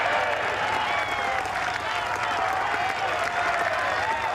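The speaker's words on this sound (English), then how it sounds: "Listen to the crowd, a fan favourite." Golf gallery at Royal Troon during The Open Championship applauding Shane Lowry: dense, sustained outdoor clapping from a large crowd, steady and fairly loud throughout.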